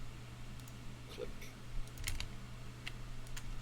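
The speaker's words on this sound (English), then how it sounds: "I'm used to tapping the keys and hearing the clicking." Typing on a computer keyboard during an editing session gives scattered light key clicks, close but soft, over a steady low hum with faint background voices.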